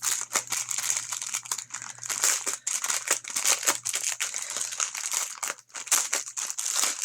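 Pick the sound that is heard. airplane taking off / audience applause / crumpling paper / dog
crumpling paper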